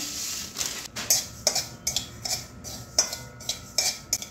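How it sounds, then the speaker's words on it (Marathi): Fennel seeds dry-roasting in a pan while being stirred, giving a run of light scraping and clinking strikes in an uneven rhythm, close and fairly clear, with no talking. "आपण आता बडीशेप घेतले भाजायला."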